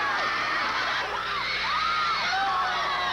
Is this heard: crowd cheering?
yes